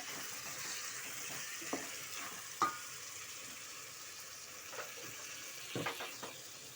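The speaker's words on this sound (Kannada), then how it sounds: "ಕೊಬ್ಬರಿ ಎಲ್ಲ ರುಬ್ಕೊಂಡಿದ್ವಲ್ಲ ಅದನ್ನು ಹಾಕೊಬೇಕು" Ground coconut paste going into a frying pan while vangi bath is cooked, with a faint continuous sizzle and a few sharp scrapes and knocks of a spoon against the pan.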